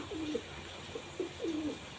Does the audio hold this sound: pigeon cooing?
yes